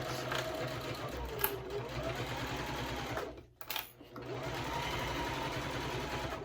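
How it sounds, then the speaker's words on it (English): A sewing machine stitches the bottom seam of a Harlequin wristlet bag with a steady, close, fast mechanical whir. It pauses briefly partway through and then resumes at the same pace. "Now we're going to sew the bottom together."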